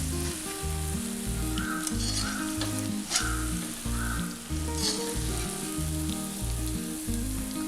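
Sankarpali sweet diamonds, diamond-shaped pieces of sweet dough, fry in plenty of hot oil until golden brown. A steady, close sizzling hiss runs throughout over background music.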